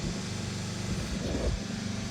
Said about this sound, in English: In case there's a noise on the background, it's the sound of generator.